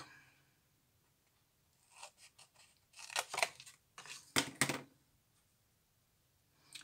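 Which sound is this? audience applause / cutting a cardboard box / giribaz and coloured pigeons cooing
cutting a cardboard box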